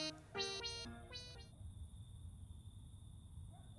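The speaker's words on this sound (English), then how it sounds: "the distant bird chirps have now become the distant sound of crickets" A steady, faint high cricket chirr runs throughout, opening with a few loud harmonic tones before settling into a constant drone over low rumble.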